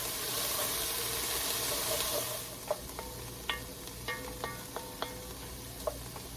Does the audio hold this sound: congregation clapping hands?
no